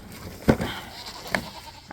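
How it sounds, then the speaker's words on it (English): Goats on a farm bleat in two short calls, a louder one near the start and a shorter one later, with faint outdoor background between. "We love our goats."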